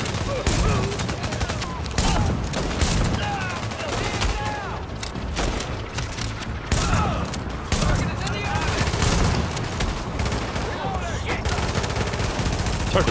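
Dense, continuous video-game gunfire with shotgun blasts and rapid bursts runs throughout, loud and layered over a constant busy mix of effects, with talk mixed in.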